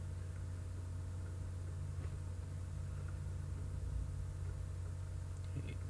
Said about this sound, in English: the machine spins the wheel and lets you know what size weight goes on the inside